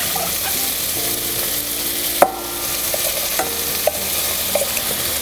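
Chicken frying in a pan for a Thai satay dish, a steady crackling sizzle with occasional sharp clinks of a utensil against the pan, no voices.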